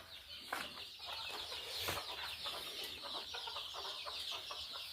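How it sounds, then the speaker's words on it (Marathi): Chickens cluck steadily at close range in a farm shed, with overlapping calls and a constant high hiss of farmyard noise behind them, and there is no talking. "या भागामध्ये आमच्या कोंबड्या आहेत"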